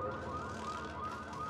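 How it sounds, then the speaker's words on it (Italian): Car alarms wail in the Dying Light 2 video game, a steady whooping electronic tone sounding at moderate distance for the whole stretch, with no talking over it. "Sono partite pure gli allarmi delle macchine"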